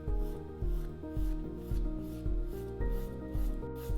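A nail file rasps across the surface of a nail to mattify it before an American-style capsule set, in a steady, even rhythm of repeated strokes over continuous background music.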